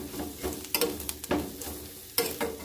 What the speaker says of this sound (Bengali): নাড়িয়ে মশলাটাকে একটু কষিয়ে নেব।